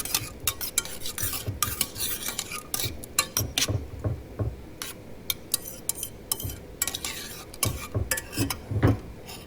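Margarine melted in a pot is stirred for a Cajun shrimp boil, a spoon scraping and knocking against the metal in an irregular, close rhythm with light clinks and a faint sizzle underneath.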